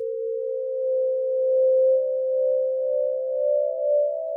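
A single quiet, pure sustained tone, the isolated minor seventh harmonic from audio-rate synth pulse width modulation, holds steady and slowly rises slightly in pitch, alone and clean.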